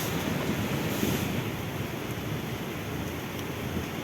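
Strong wind from Typhoon Aghon roars over steady crashing surf at Real, Quezon, a dense continuous rush of sea noise with no voices.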